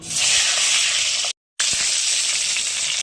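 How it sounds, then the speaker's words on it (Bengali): Whole eggplants frying in hot mustard oil give a loud, bright hissing sizzle that runs continuously, cuts out briefly, then resumes just as strong, heard up close without voices. "এবার বেগুনগুলো ভেজে নেব গোটা শুদ্ধ রেখেছি বেগুন"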